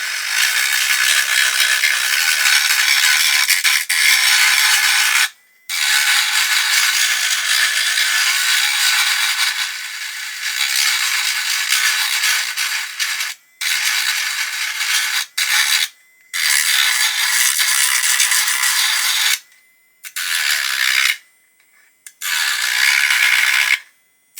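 A rotary tool on its slowest setting runs around the wheel arch of a 1/12 Italeri Lancia Stratos model body, giving a steady, close, rasping high whir broken by several short pauses.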